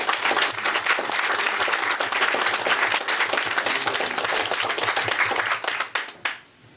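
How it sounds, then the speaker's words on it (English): Sustained audience applause at a screening event in Ottawa, dense and steady for about six seconds before tapering off abruptly. "I'd like to ask a round of applause for David Shackleton and his team here in Ottawa"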